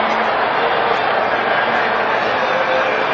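A packed Baltimore Orioles stadium crowd of over 53,000 at the 1979 World Series cheers and chants, led by cab driver Wild Bill Hagy, a dense, steady roar filling the whole stretch.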